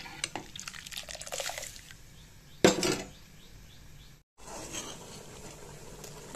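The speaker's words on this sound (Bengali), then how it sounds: "পরিমাণ মতো গরম জল আমি দিয়ে দিলাম" Hot water poured into a pot of cooking masoor lentils for a sour raw-mango dal, a short, faint splashing gush amid quiet clinks of utensils and a low kitchen hum.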